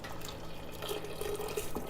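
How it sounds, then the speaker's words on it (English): Boiling water pours into a glass jar for making kombucha, a faint, steady trickle and splash with a few small drips near the end. "I still get really nervous pouring the boiling water into my jar."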